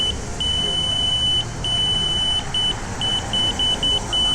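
A scooter horn beeps outdoors in the evening, one long blast followed by a string of shorter, quicker beeps, loud and clear over a low background rumble.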